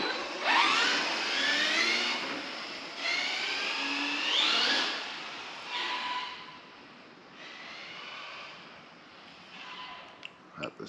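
An electric RC drag car on a 4S battery whines past in a wet parking lot, rising and falling in several high-pitched runs, some near and some fading off, ending with a few faint clicks.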